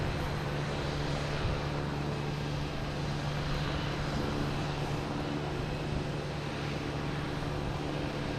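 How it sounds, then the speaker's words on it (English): Steady, broad engine roar from an American Airlines Airbus A319 jet near Boston Logan Airport, a constant loud rushing drone with a low hum running underneath and no clear break throughout. "So we have American Airlines, a A319 heading to DC"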